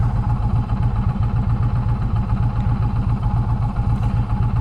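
An Indian Challenger motorcycle fitted with Tab Performance slip-on exhausts runs with a deep, throbbing engine rumble, steady and close, with a fast low pulse throughout and no talking.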